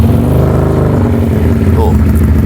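A Keeway motorcycle with a loud aftermarket exhaust starts and runs at a deep, throbbing idle close by, with someone talking over it.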